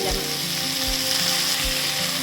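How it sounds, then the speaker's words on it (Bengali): Loud, steady sizzling of black cumin seeds and stems frying in hot oil used for frying prawns, with a few low knocks as it is stirred; no voices. "চিংড়ি মাছ ভাজার তেলের মধ্যে দিয়ে দিলাম কালো জিরে, লতিগুলো এবারে দিয়ে"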